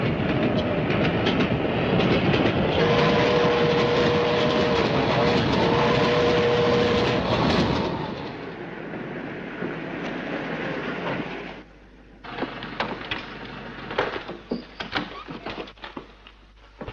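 A train running on rails, a loud rumbling passage with squealing wheels for several seconds, then quieter rolling with rhythmic clicking over the joints and occasional clatter.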